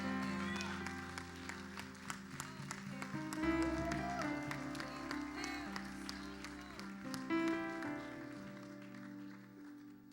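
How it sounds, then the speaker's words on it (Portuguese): A Baptist church congregation applauds during worship, with a steady wash of clapping over ongoing music that swells and fades across the stretch. "Vamos dar um aplauso para esse Deus maravilhoso."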